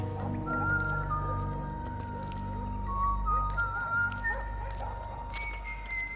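Melodic whistling in the Metal Gear Solid 4 video game, a series of short high whistled notes rising and falling over a low steady hum, with faint clicks and drips scattered throughout.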